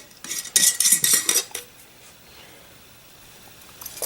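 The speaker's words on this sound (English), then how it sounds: "So I'm gonna throw some jalapenos in there." Jalapenos land in a camping pot of dehydrated hamburger with a burst of metallic clinks and scrapes of utensils against the pot, then fade to near silence, with a faint rattle returning at the end.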